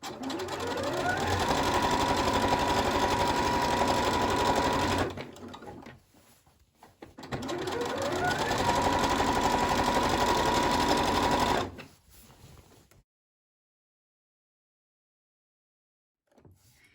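A sewing machine stitches shirred fabric for a floaty summer top in two long, steady whirring runs of about five seconds each, each followed by a short pause of fiddling. Close and clear, with no talking.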